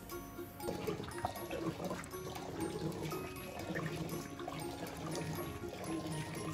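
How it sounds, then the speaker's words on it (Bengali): Water splashes and pours while lentils are rinsed by hand, a continuous sloshing, trickling wash with small clinks, moderately close. "ডাল ধুয়ে নিব,"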